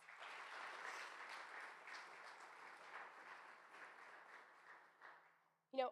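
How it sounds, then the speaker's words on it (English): A crowd claps steadily for several seconds, the applause slowly fading before a brief voice at the end. "Can we give them a round of applause?"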